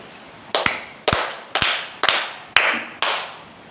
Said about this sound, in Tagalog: Bigyan natin ng 5 palakpak ang ikalawang pangkat.